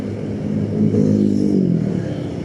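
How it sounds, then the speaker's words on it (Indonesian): Heavy road traffic on a highway between Surabaya and Tulungagung, a loud, close rumble of engines and tyres swelling as a vehicle passes, with trucks still running among the cars. "banyak banget kan trafiknya"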